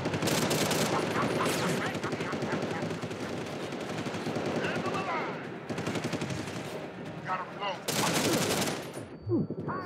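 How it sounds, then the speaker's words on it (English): Dense video-game gunfire keeps up cover fire almost without a break: loud rapid bursts and rattling automatic shots layered over one another, with a few short pauses before the shooting surges again. "the goddamn fucking cover fire of this game"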